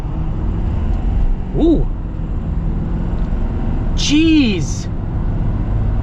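A Ford F-450 Black Ops dually pickup with 1,050 pound-feet of torque accelerates hard, giving a steady, broad engine and road roar heard from inside the cab, with people exclaiming briefly over it.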